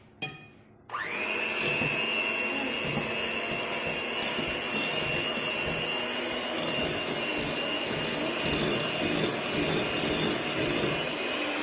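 An electric mixer starts with a click and then whirs at a steady, high, motorized pitch while mixing chocolate muffin batter, staying even and fairly close for the rest of the stretch with no speech.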